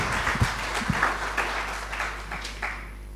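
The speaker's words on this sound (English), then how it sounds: "I think you all can clap for him" An audience at a school of computing and engineering launch ceremony claps, a steady, moderately loud spread of applause with a low hum underneath, thinning toward the end.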